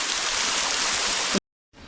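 Water gushes steadily out of a rock crevice at Pogila waterfalls, a dense, loud rushing that holds evenly before cutting off abruptly, then returns more faintly after a short gap.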